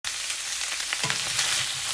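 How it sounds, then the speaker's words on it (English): Vegetables stir frying in a pot over medium-high heat, a dense, continuous loud sizzle with crackling spatters and a brief scrape of stirring partway through, no voices. "we're going to add all our veggies into the pot and stir fry it for a few minutes"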